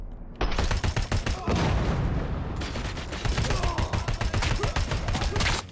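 Rapid bursts of automatic gunfire in RoboCop: Rogue City ring out loud and close, dense repeated shots with brief gaps and heavy booming low end, continuous through the clip.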